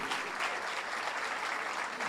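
An audience at a year-end graduation ceremony applauds, a dense, steady wash of many clapping hands throughout, fairly close and even.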